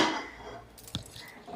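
A single metallic clank of a pan set down on a hard surface, brief and close, amid quiet kitchen background.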